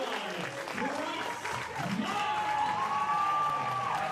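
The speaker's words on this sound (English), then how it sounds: "There's a hearty round of applause at the home of the Matildas" A stadium crowd at an A-League women's football match between Melbourne Victory and Western Sydney Wanderers applauds warmly during a substitution, a steady distant wash of clapping and some cheers beneath a commentator's voice.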